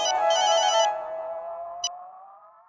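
A mobile phone rings in a Hindi TV comedy scene, with a bright electronic ringtone melody close by that plays briefly and then fades, followed by a short click.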